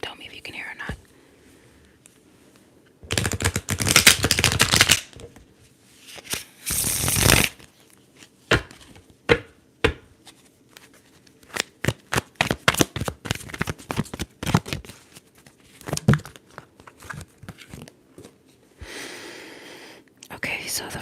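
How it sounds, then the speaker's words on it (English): Tarot cards are riffled and shuffled close to the microphone in several bursts of crisp, flapping clatter, then come quieter taps and card handling while a person talks softly between the bursts. "let's go ahead and shuffle"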